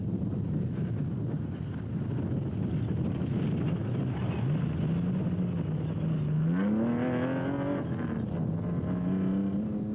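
GBS Racing Nissan race car in a Class D off-road race, a droning engine under heavy wind buffeting, rising in pitch as it accelerates near the end.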